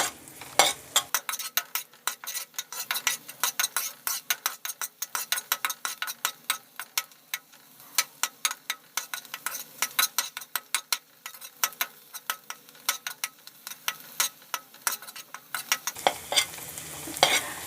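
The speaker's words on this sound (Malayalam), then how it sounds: "ഒന്ന് പച്ച ചുവ മാറിക്കഴിയുന്നിടം വരെ നമുക്കിതിട്ട് വഴറ്റി കൊടുക്കാം" Garlic sautés in a pan under a constant sizzle, while a spoon scrapes and taps the pan in quick, rhythmic strokes that continue almost the whole way through.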